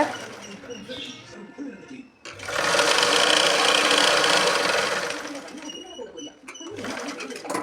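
A sewing machine runs a continuous stitching burst along a lining hem for about three seconds, with quieter intermittent machine hum and light handling noise before and after.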